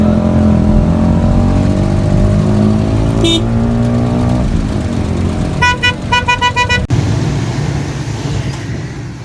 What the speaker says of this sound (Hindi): गाड़ियों की एक तवील कतार है